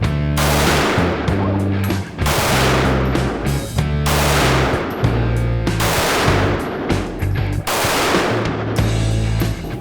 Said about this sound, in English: All we're gonna do is let her put a few rounds down range just to see how she likes the gun